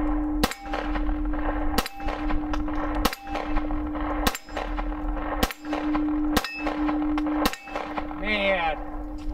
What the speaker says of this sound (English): let's shoot some more here. Go for some headshots.